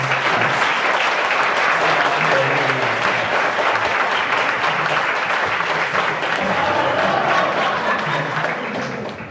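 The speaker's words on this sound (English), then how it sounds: "Give it a round of applause." Sustained applause from a panel audience, loud and dense throughout with faint voices mixed in, tapering slightly toward the end.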